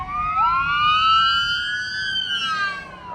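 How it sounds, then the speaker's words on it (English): Ambulance siren wailing nearby, its rising and falling tone sweeping clearly over low road traffic rumble as it passes, loud and alone without talk. "Oh, I see an ambulance up there."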